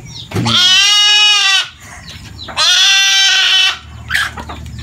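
A goat, meant as a birthday gift, bleats two long, loud, wavering calls close by, each lasting about a second, with a short gap between and farmyard background in the pauses.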